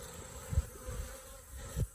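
Honeybees buzz around a hive in a continuous low drone, close by, with a few louder passes swelling and fading.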